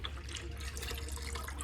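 Coolant draining out of a vehicle engine during a water pump replacement in a garage, a steady, quiet trickling and splashing flow over a low background hum.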